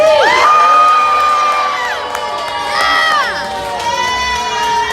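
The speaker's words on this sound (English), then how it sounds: "As you cheer and jeer" A crowd of passengers aboard the Star Wars Galactic Starcruiser cheers and whoops loudly, with rising and falling shouted voices overlapping in a lively, sustained roar.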